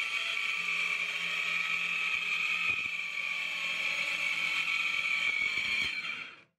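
A TackLife mini corded circular saw with a fine tooth blade cuts steadily, giving a continuous high whine close by that holds for about six seconds and then stops abruptly.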